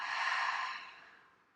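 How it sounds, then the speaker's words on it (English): A single long exhale pushed out through an open mouth, close and breathy, loud at first and trailing off softly. "on your exhale, you're going to open your mouth and let that breath out"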